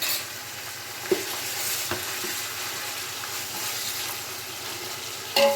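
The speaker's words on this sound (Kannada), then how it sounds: "ಚೆನ್ನಾಗಿ ಎಣ್ಣೆನಲ್ಲಿ ಫ್ರೈ ಮಾಡಿಬಿಡೋಣ ಶುಂಠಿ ಬೆಳ್ಳುಳ್ಳಿ ಸ್ಮೆಲ್ ಎಲ್ಲ ಹೋಗಬೇಕು" Ginger garlic paste frying in hot oil for Hyderabadi biryani, a continuous close hissing sizzle with a few brief utensil knocks and a clink near the end.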